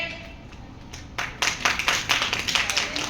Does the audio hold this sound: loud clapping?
yes